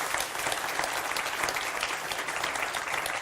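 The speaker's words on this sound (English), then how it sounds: "I'd like to thank all of our panelists. A round of applause very much" A conference audience applauds panelists after a session on cyber threats, with steady, dense clapping filling the room throughout.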